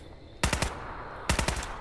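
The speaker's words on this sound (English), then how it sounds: "I'm liking the automatic fire." Automatic gunfire in the video game Fallout 4: two short bursts of three to four rapid shots each, about a second apart, loud and close over quiet game ambience.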